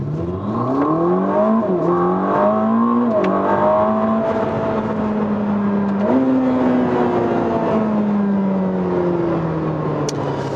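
A Ferrari hybrid turbo sports car engine revs hard, pitch climbing through several gear shifts in a loud, sustained, close-up acceleration with no talking.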